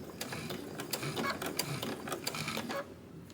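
Sewing machine stitching a Halloween mini quilt, a steady rapid mechanical chatter of needle strokes at moderate level that stops abruptly near the end.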